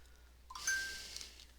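Short faint electronic ding from a mobile phone notification, a brief tone followed by a soft shimmering chime that fades over about a second, alone in a quiet room.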